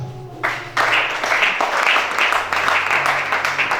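Audience applause swells suddenly and holds steady as a continuous wash of clapping, with a faint tonal hum underneath.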